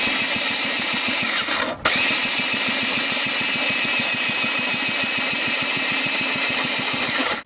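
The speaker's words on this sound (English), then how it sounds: "You see that fuel is running through the engine and cleaning it out." A JetSurf motorized surfboard engine cranks over with a fast, steady rhythmic chugging while fuel flushes water out, loud and close, with a brief interruption partway through.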